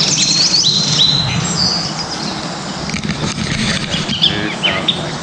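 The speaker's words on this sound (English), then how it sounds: "There's little birds everywhere." Little birds on a hiking trail in the Santa Monica Mountains, bright chirps and tweets, clustered early and then scattered, over a rustling outdoor background.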